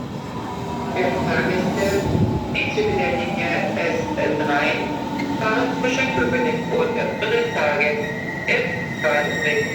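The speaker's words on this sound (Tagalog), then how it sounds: "May padating na train guys, pero hindi pa rin yung atin yan." An S-Bahn train arrives at a Berlin station with a steady loud rumble, squealing wheels and a whining motor. A person talks over the noise the whole time.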